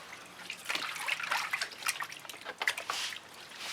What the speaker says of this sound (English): let me rinse off for a second